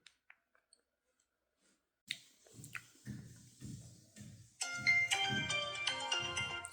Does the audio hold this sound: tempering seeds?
no